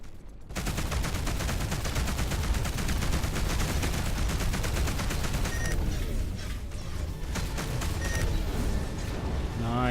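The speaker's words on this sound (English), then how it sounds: "let's try the rapid fire" A rapid-fire weapon in the space video game Between The Stars pours out a dense, continuous stream of loud shots for about ten seconds, the rhythm turning choppier and more layered near the end.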